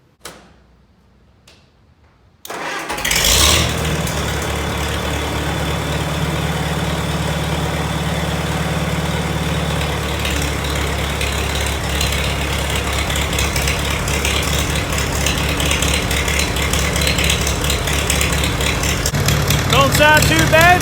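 A tractor engine that sat flooded in a river cranks and catches after a quiet start, then settles into a loud, steady, rumbling idle that holds for the rest of the clip.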